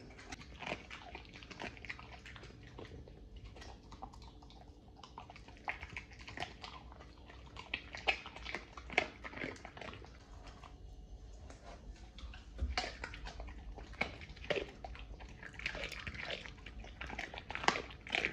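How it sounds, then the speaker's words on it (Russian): A dog gnaws on spine bones indoors, with faint scattered crunches, clicks and chewing sounds, some louder bites standing out against a quiet background. "пошла туда грызть эти хребты"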